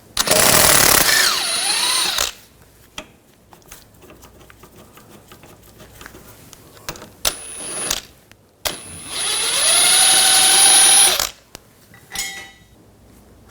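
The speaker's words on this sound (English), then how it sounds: "Take this bolt out, use a 15mm socket." A catalytic converter bolt on a 2013–2019 Ford Escape is driven out with a 15mm socket. Two long, loud whirring tool bursts are separated by quieter clinks and handling noises nearby.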